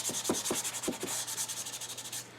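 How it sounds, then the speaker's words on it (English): Sandpaper rubbed by hand across cherry wood, a quick run of rhythmic scratchy strokes that then settles into a steady, softer hiss of continuous sanding, close and clear with no talking. "it's just move the sandpaper across the surface, and the dust layer tells you when you're done"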